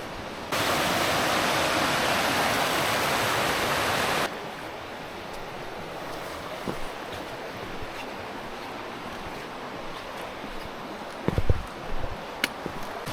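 A loud, steady rush of water flowing out of the ground and a stream after heavy rain near Chee Dale, Peak District, fills the first few seconds, then drops to a softer background trickle with a few brief knocks.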